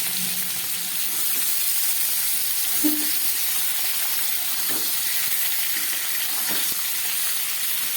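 Jackfruit frying in a pan with garam masala tempering, a steady close sizzling hiss with soft crackles running continuously, no talking.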